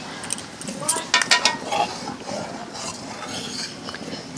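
Milk stirred with vinegar in a pot over a clay stove, giving soft scraping and clinking of a utensil against the pot in a cluster of knocks, then a quieter steady bubbling murmur.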